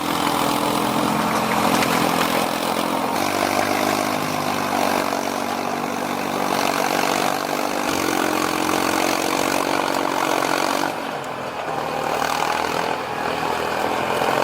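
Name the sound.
forestry forwarder engine roaring under load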